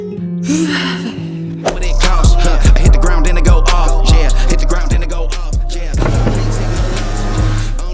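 A fast car drives up, its engine rumble starting loud and close after a second and a half, with a rapid run of clicks, thumps and rattles over the steady motor noise.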